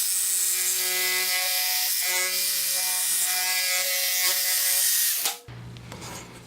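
A narrow, fine-toothed saw blade cuts steadily with a buzzing, rasping drone broken by brief rhythmic dips about once a second, then stops abruptly near the end, leaving a quieter hum.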